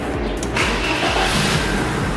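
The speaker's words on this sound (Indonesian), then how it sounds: "udah saatnya gue akan nyalain mesin, sekalian gue akan cek elektrikal." A BMW E30 with the M40 engine cranks and catches, its starter whir giving way to a loud, close, steady engine idle with rhythmic low pulsing.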